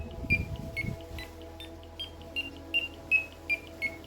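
A Nash Siren R4 carp-fishing bite alarm gives a series of short electronic beeps at irregular intervals, changing pitch between tones, fairly close and clear over a faint background hum.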